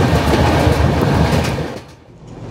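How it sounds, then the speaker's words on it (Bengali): Kulik Express passenger train entering Khana Junction, loud steady rumble and clatter of wheels on track heard from onboard, easing off briefly near the end before picking up again. "ট্রেন খানা জংশন ঢুকছে"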